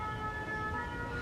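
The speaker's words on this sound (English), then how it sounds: "Boy, that's a loud ambulance siren." A loud European-style ambulance siren in New Caledonia, a steady sustained wail close by that fills the whole moment without pause.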